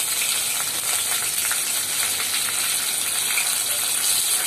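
Curry leaves crackle and sizzle in hot oil in a mustard, cumin and asafoetida tempering for a drumstick curry, a close, steady bright hiss with no talking.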